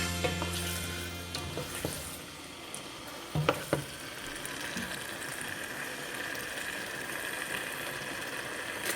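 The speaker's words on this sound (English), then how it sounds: "we're just frying everything together and incorporating it" A steady, crackling sizzle of a jollof stew base frying in a pot, with a few clinks and stirring knocks partway through.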